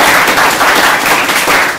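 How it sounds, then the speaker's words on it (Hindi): A classroom audience at an electronics lesson breaks into loud, dense clapping that holds steady with no voices over it. "इनके लिए ताली बजा दो यार"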